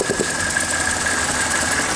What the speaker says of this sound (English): Now listen to the engine.